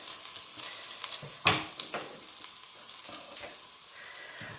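Grated garlic frying in melted butter, a soft steady sizzle with light crackles and a sharper stirring clatter, heard close with no talk.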